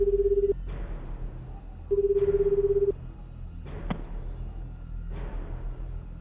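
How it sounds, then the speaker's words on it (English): A telephone being dialed as a game sound effect, with steady electronic tones in two short bursts separated by sharp clicks and soft rustling, then further isolated clicks, close and without voices. "Kano took out his phone to check with Sasayama."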